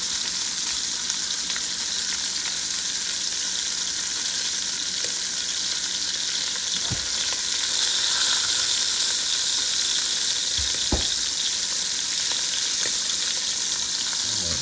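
Hog jaw frying in a pan on a home stove, a steady loud sizzle and hiss throughout with a few faint clinks of utensils, no talking.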